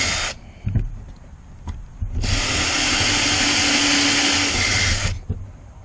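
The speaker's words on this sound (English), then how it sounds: "Have to clean them holes out when I drill it or they'll break." A power drill bores into very hard wood in a sustained, loud whine of about three seconds, preceded by brief clicks and short bursts, then stops abruptly.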